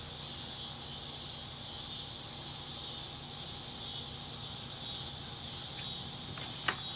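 Insects drone outdoors in a constant high, hissing buzz that stays steady in the background, with a faint low hum beneath and a single soft knock near the end.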